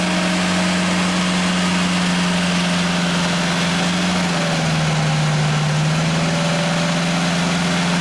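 Engine of a Genie boom lift running at fast idle, a steady loud droning hum that holds throughout with a slight pitch shift midway, no voices.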